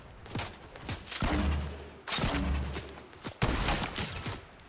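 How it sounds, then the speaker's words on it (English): Gunfire in OG Fortnite Chapter 1 among trees, bursts of rapid shots and sharp cracks mixed with game noise, fairly loud and continuous across several seconds. "I shot the tree."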